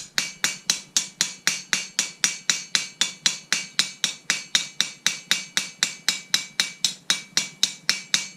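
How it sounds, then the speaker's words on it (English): A ball peen hammer taps copper sheet in a steady, evenly spaced series of about thirty bright metallic strikes, close up with no talk. "I'm just going to give it a gentle tap with a ball peen hammer"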